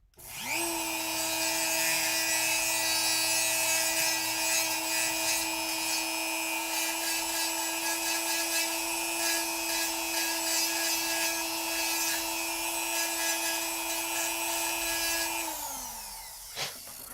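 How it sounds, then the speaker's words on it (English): A Dremel rotary tool grinds down a plastic action figure waist joint, whining at a steady high pitch for about fifteen seconds before spinning down. "let's go ahead and Dremel it down just a little more"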